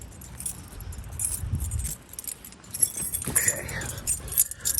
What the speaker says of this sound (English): Let me grab the keys.